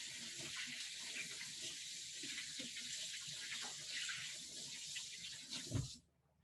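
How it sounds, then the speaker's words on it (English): Tap water runs steadily into a sink during handwashing, a close, even hiss and splash that cuts off abruptly near the end, with no talk. "I'm gonna wash my hands"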